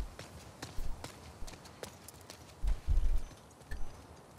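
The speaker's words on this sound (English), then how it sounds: "I guess we can get back on the horse and take this left." Horse hooves clip-clop in the video game The Last of Us Part 2, a sparse, uneven series of soft thuds that grows heavier toward the end, with a brief flurry of louder steps near the three-second mark.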